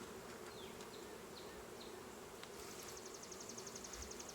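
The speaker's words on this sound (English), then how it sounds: "Get these bees in there" Constant low insect buzzing from many honey bees during a hive inspection and honey harvest, faint and close, with a few brief higher whines from individual bees flying past.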